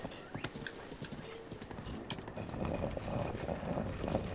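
Horse hooves clip-clop in an even walking rhythm in The Legend of Zelda: Breath of the Wild, near and clear, with a rushing background noise swelling in the second half.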